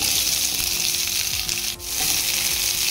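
Chopped onion fries in a pan for baby corn manchurian. A dense, loud sizzle runs throughout, broken by a brief dip near the middle, with faint stirring scrapes underneath.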